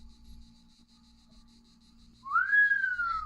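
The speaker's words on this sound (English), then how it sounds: "PBG whistled." A character in Asagao Academy gives a short, clear, rising-then-falling whistle over a faint steady background hum.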